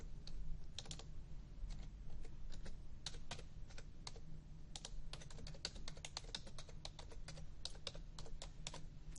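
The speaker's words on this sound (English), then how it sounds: "I can type in my text that I want my audience to be able to" Quick, steady typing on a computer keyboard, with many close, light key clicks in uneven runs over a faint low hum.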